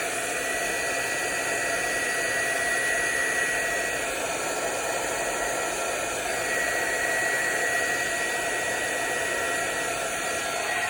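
A hair dryer blows steadily on a braided paper card, a constant, loud, close whooshing hum with no breaks.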